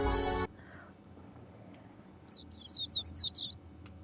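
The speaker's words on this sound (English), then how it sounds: "The sound of birds chirping slowly raises me from my dream into consciousness." Birds in a video game chirp in a short, quick flurry of high tweets after a brief voice at the start, set against a faint, quiet background.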